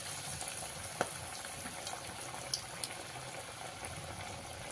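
Cabbage pakoras deep fry in hot oil with a soft, continuous sizzle and crackle, dotted with a few sharper pops, fairly quiet and steady with no talking.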